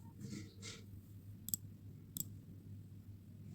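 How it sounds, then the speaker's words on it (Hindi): A computer mouse clicks on a Choose File button during an online internship application, a few sharp, isolated clicks spaced apart over a quiet background, with one louder click at the end. "कुछ इस तरह से चूज फाइल पर क्लिक करके"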